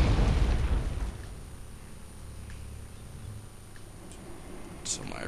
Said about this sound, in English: They're shooting at my recon.